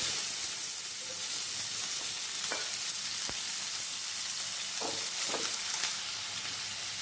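Onion sizzling in hot oil with mustard seeds and urad dal for poori masala, a steady close frying hiss with a few brief crackles and stirring clinks, no talking.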